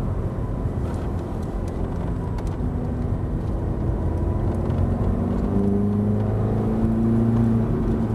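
A Ferrari F430 on a track accelerates with a steady engine whir whose pitch climbs through the gears, heard from inside the car as a continuous, moderately loud drone.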